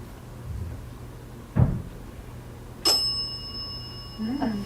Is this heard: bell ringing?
yes